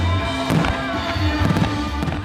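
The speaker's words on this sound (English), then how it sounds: "there was musical performances and also some official fireworks." Official fireworks at Territory Day celebrations in Australia go off in loud crackling bursts and booms over a constant roar, with several sharp pops close together.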